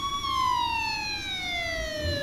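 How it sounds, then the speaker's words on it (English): A wailing siren sweeps steadily downward in pitch, clear and fairly close, with faint low rumble underneath and no talk. "The siren's broken!"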